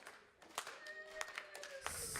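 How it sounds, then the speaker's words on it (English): An audience at a poetry slam claps slowly and unevenly, scattered distinct hand claps spaced out at uneven intervals, fairly faint, with a few louder smacks standing out and no talking. "Clap slower."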